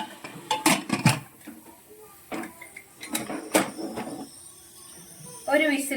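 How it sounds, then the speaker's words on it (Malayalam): Metal clanks and scrapes as a pressure cooker lid is fitted and closed over fish curry, several sharp knocks close by, with a brief voice near the end. "അപ്പം നമുക്കിനി ഈ കുക്കറ് അടച്ച് വെച്ച് വേവിക്കാം"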